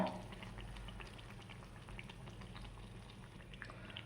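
Potato bajji sizzle in hot oil with a steady, faint bubbling crackle, a soft continuous fizz with scattered tiny pops and no voices.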